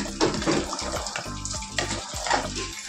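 Water gushes from a tap at a household outdoor washing spot, a steady close splashing with bursts of spatter over a pot cooling beneath it.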